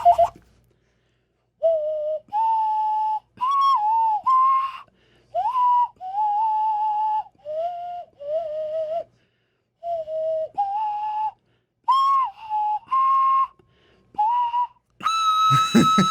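A person whistles the tune of Amazing Grace, clear and close, in sustained melodic phrases broken by short breaths, with a brief noisy burst at the end.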